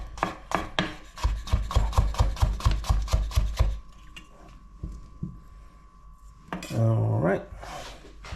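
Knife julienning potatoes on a wooden cutting board, a rapid run of sharp close chops in a steady rhythm that stops abruptly, followed by quiet kitchen clatter and a short scrape.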